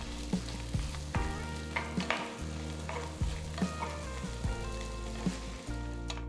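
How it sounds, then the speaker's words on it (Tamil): Finely chopped onions sauté in butter with a steady, close sizzle, punctuated by repeated clanks of a spoon stirring against the pan. "இது கூட பொடுசா நறுக்கின ரெண்டு வெங்காயம் சேர்த்து ரெண்டு நிமிஷம் வதக்கலாம்"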